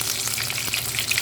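Shaped falafel (tamiya) sizzles steadily in hot frying oil, a dense close crackle with no talk.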